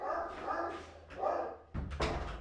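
Domestic dogs bark at the postman indoors, with a few loud, close barks spread over two seconds and a sharper bark near the end.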